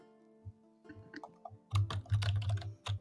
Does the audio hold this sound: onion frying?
no